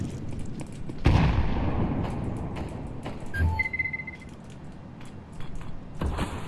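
Grenade blasts and gunfire in a shooter video game: a heavy boom, then bursts of shots and a second deep thud, along with short electronic tones, all loud and close.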